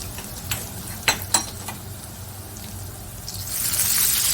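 Shrimp sautéing with red chili flakes in a pan, with a soft steady sizzle, a few sharp utensil clicks against the pan early on, and the frying hiss swelling louder toward the end.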